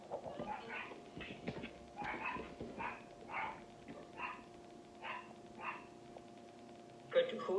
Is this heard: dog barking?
yes